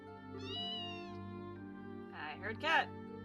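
Two cat meows from the video game Trails in the Sky SC, a drawn-out one followed later by a shorter, rising pair, both standing out clearly over steady background game music.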